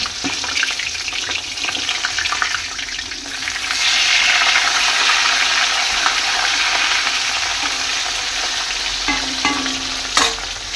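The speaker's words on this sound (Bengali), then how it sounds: "এই যে মাছ ভাজা করছে" Fish sizzles in a hot frying pan with a steady close crackle and hiss that swells partway through, with scattered sharper pops and light utensil scrapes and no talk.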